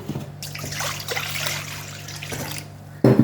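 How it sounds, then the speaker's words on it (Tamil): Water trickles as it is poured into ground urad dal flour to make murukku dough, a close, gentle splashing stream lasting a few seconds before a sharper sound at the end. "ஃபஸ்ட்டு கொஞ்சம் தண்ணி ஊற்றிக்கிடுவோம்"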